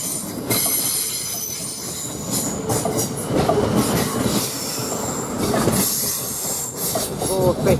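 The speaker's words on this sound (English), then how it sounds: "Now we get another train to London Waterloo here" A Class 450 electric multiple unit bound for London Waterloo passes through Basingstoke station, loud and close, with steady rolling rumble, wheel squeal and rhythmic clickety-clack of the carriages throughout.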